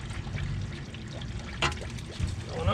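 Transmission fluid drains from a 2004 Audi CVT transmission during service and splashes steadily, a continuous pouring trickle broken by a few sharper splashes and gulps of air.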